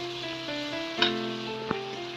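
Chopped onions frying in a pan for a chicken and potato curry, giving a soft, steady sizzle with a couple of brief stirring clicks over a faint hum.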